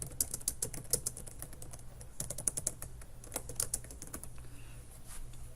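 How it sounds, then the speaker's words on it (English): Steady typing on a computer keyboard while entering a header in Microsoft Word: dense, close runs of light key clicks with brief pauses between bursts and a faint low hum behind. "and you type in here"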